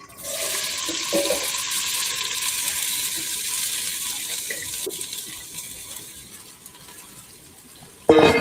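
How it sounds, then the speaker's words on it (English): Leek and other vegetables fry in extra virgin olive oil in a pan over low heat, making a steady, close sizzling hiss that ends in a sharp clatter. "and then we're gonna add our vegetables. We're gonna start with the leek."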